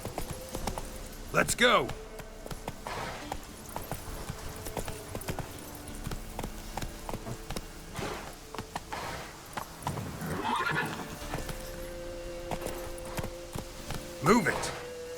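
Roach, Geralt's horse in The Witcher 3: Wild Hunt (Hearts of Stone), gallops with rapid hoof clops and whinnies loudly several times, near and clear, while a player talks over the game sounds.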